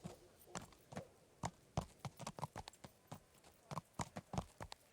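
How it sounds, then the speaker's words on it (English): Horse hooves clip-clopping in the medieval video game Kingdom Come: Deliverance, a steady walking rhythm of close, distinct hoof strikes heard alone. "Alright, we got a horse."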